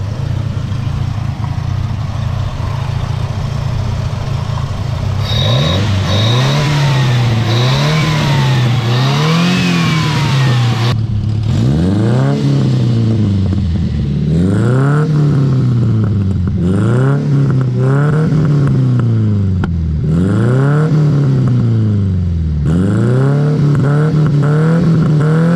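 A modified Fiat 118 car engine revs repeatedly in rising and falling surges, loud and close, with a deep throaty exhaust note between blips.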